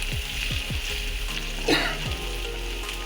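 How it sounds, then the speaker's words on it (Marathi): Spices sizzle and fry in a pan for prawn biryani while a spoon stirs them. Several scraping strokes come close together over a steady hiss, with one brief louder clatter midway. "आता आपण हे सगळे मसाले व्यवस्थित मिक्स करून घेऊया"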